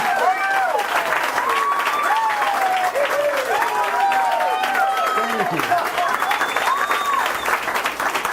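An audience at a Magic Castle premiere applauds and cheers steadily after a pool trick shot sinks the 8 ball in the corner pocket, with a near voice speaking over the sustained clapping.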